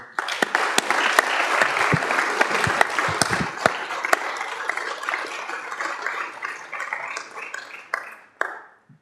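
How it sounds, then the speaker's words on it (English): Audience at a Dorset Council meeting applauding children's services staff, sustained sharp clapping from many people with distinct individual claps standing out, tapering off toward the end. "they deserve a round of applause"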